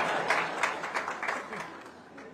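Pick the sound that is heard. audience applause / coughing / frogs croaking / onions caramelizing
audience applause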